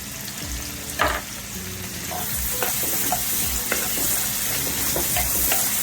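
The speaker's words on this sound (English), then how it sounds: "And you saute this for about 2 to 4 minutes." Thyme and half a Scotch bonnet pepper sauteing in a pot, a steady close sizzle with intermittent spoon scrapes and knocks against the pot, no talking.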